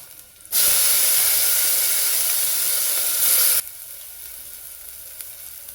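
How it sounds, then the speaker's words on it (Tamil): Tomatoes hit hot oil with browned onions in a pan for sambar, letting out a loud, steady broadband sizzle that starts abruptly, holds for about three seconds, then drops to a quieter simmering hiss. "இப்போ நம்ம தக்காளி போட போகிறோம்."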